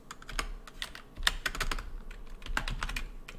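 Light typing on a computer keyboard while entering ad text, soft irregular key clicks with a few louder taps, close and quiet with no talking.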